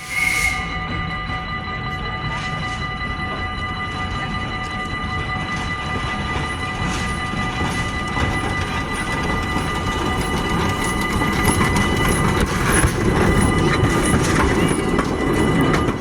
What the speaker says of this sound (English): I stand at the crossing waiting for the first train to pass